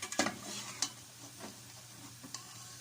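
Pork rib pieces hitting hot oil in a frying pan, a few sharp sizzling bursts as each piece goes in, close up over a steady low frying hiss.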